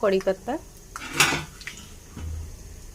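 Peanuts and coconut being stirred and fried in a pan, with a few sharp metallic scrapes and clinks of a utensil against the pan up front, then a softer sustained sizzle and rustle.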